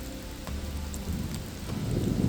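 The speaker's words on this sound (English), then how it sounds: "the rain poured down even harder" Heavy rain pours steadily on a mountain hiking trail in the Czech Republic, a dense close hiss of drops with no voices.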